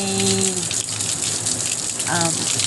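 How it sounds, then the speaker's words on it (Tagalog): Heavy continuous rain during a typhoon, a steady dense hiss of water with gushing texture filling the clip, while a voice talks faintly over it in short bursts. "tuloy-tuloy ang ulan sa amin dito"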